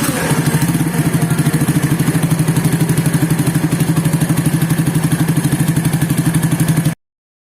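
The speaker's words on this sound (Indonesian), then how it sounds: "jadi mesinnya sudah nyala" A motorcycle engine with a stock Tiger carburettor, no reaming and a floor-style exhaust idles close by in a fast, even, loud putter with a clattery edge, running alone throughout.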